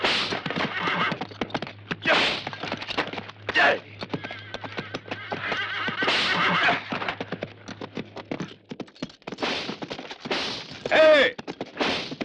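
A horse whinnies several times amid clip-clopping hooves in a 1973 Western action film scene, loud neighs separated by bursts of hoof and action noise, with a brief gunshot-like crack.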